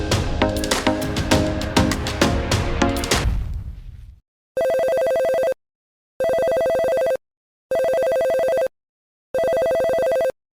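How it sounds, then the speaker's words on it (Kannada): A telephone rings in four evenly spaced, loud electronic bursts with silent gaps between them, following a short passage of music that fades out. "ಫೋನ್ ಬರಾಕತೈತಿ"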